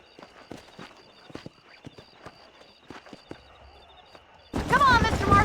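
Horses' hooves clip-clop in Red Dead Redemption, sounding as a run of scattered near thuds and clicks over a faint ambient bed, with a burst of louder speech at the end.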